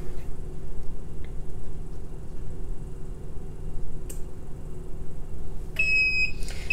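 An HPN Cap Press Black Series heat press timer sounds a short series of shrill electronic beeps at the very end, over a steady low machine hum.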